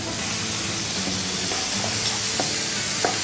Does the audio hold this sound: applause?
no